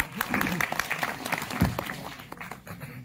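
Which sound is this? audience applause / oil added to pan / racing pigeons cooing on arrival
audience applause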